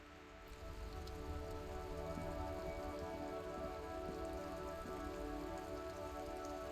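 Steady rain falling in the video game Disco Elysium, a soft continuous patter of drops on surfaces that fades in at the start and holds evenly throughout, faint and without talk.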